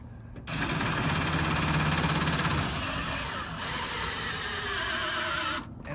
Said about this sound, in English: we're just gonna reach under here with the drill